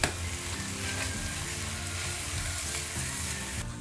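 Sizzling and stirring in a hot pan as a five-spice mixture with mandarin zest cooks, a steady frying hiss with scraping strokes of a utensil throughout.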